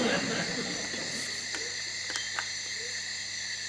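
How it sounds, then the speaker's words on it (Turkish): Crickets chirp in a steady high-pitched drone, fairly faint, with a few soft clicks and a brief rustle early on. "Cırcır böceği."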